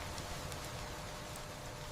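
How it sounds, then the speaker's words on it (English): Steady rain falling over a forest, a dense, even hiss of countless drops with faint occasional patters, soft and unchanging throughout. "Between them, the rain falls steadily."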